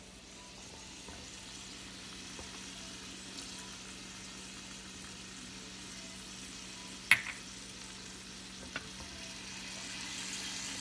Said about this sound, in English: now I'm going to add in 1 teaspoon of balsamic to absolutely elevate the flavor